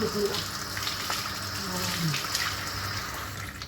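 Water splashes and pours in a basin while a pet cat is bathed with liquid soap, a soft continuous trickle and slosh at low level, with a voice speaking quietly over it.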